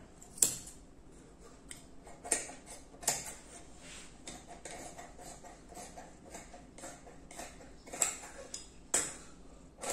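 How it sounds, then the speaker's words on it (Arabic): Scissors cut jacket lining fabric, giving soft irregular snips and sharp clicks of the blades close by, spread through a quiet room. "قص لي البطانه دي كده اهي، زيها زي الجسم بالظبط."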